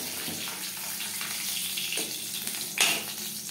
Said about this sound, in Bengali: ডালও বেশ ভালো করে ফুটতে শুরু করে দিয়েছে।